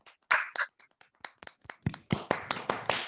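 Scattered claps from an audience welcoming a speaker onto a stage, starting sparse and building into brisker, denser applause near the microphone.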